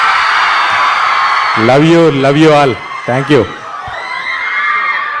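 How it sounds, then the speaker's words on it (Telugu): Fans at a film song release event cheer and shout in a loud, steady crowd roar, while someone speaks over it into a microphone for a few seconds. "ఇంకొకసారి గట్టిగా అరవండి"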